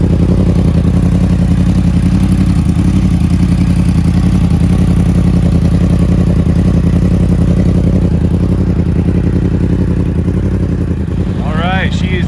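A 2015–21 Yamaha R1 motorcycle fitted with a Two Brothers exhaust runs steadily at idle close by, a loud continuous engine drone with some clatter throughout, and a brief whistle-like sweep near the end.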